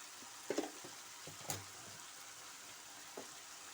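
Tomatoes and chili powder frying in a pan with diced eggplant and cucumber, a low steady sizzle with a few sharp clicks and spatters near the start and middle.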